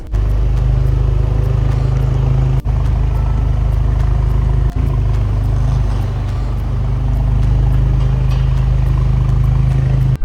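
An Alfa Romeo Giulia 2.0 T on a replacement engine with about 32,000 miles hums steadily from inside the car while driving, loud and continuous, broken by two brief dips.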